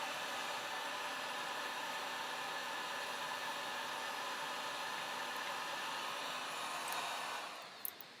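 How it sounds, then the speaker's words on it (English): A heat gun blows a steady, even whoosh while shrinking heat shrink tubing on a DIY antenna build. The hiss stays level for several seconds, then tapers off and ends with a couple of faint clicks. "Now I'm going to do this heat shrink real quick."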